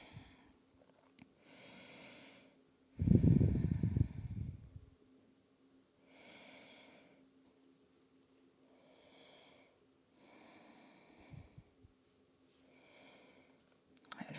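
Slow, deep breaths during a restorative yoga session, drawn in a steady rhythm of soft, airy swells every couple of seconds, with one heavier, louder exhale early on, close and alone without talk.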